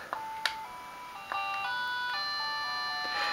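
A baby bouncer chair plays a bright electronic chime melody of steady, sustained tonal notes, with a few clicks at the start, running alone with no talking.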